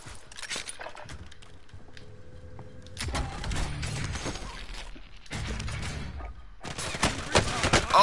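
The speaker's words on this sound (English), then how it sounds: "Somebody else is shooting at me." Gunfire crackles in a Warzone battle royale match, several loud bursts of rapid shots separated by quieter stretches, with scattered single shots between them.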